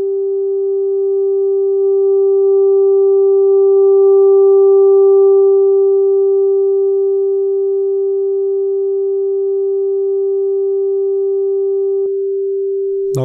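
A steady sine wave test tone runs through a Bozak AR-4 mixer, a loud pure pitch with faint upper harmonic lines that drop out near the end before a brief click.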